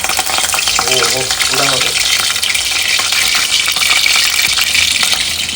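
Curry leaves hit hot oil in a pan with a loud, dense, continuous sizzle and spatter, with a brief voice speaking near the start.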